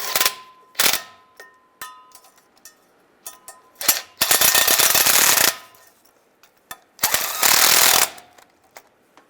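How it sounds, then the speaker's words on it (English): Ratchet wrench tightening bolts on the rear main seal cover of a 2007-2013 Chevy Silverado, with sharp clicking bursts and longer rapid ratcheting runs close by, separated by brief pauses. "get the bolts started. And snug those down."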